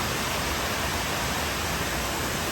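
Waterfall on Ulleungdo island, a dense, steady roar of falling water, close and loud, with no other sounds.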